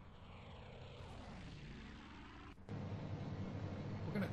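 An aircraft engine roars steadily at full power in the IL-2 1946 flight game, a continuous droning propeller noise that swells louder after a brief dip, heard alone without talk.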